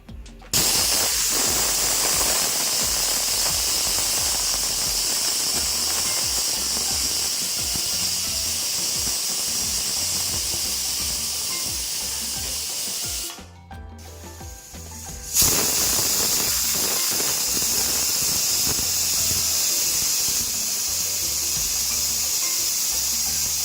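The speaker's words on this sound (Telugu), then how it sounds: "ఏడెనిమిది విజిల్స్ వేయించుకోవాలి" A pressure cooker cooking gongura dal on a stove lets out a loud, continuous steamy hiss. It runs almost unbroken, dips briefly in the middle, then resumes at full strength.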